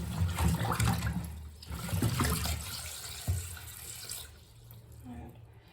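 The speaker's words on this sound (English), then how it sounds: "fill it up to the top even as much as you can in your own sink and dump them all the way in" Tap water runs steadily into a household sink being filled to the top to soak an old Hoya kerrii plant, a continuous close splashing flow that eases toward the end.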